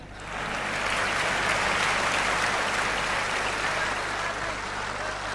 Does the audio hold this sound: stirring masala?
no